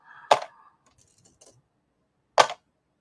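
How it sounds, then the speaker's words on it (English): Shield pennies are tossed into a tub in two sharp metallic clinks about two seconds apart, close and fairly loud, with faint rustling between them. "What you're hearing is me throwing shield pennies into the tub."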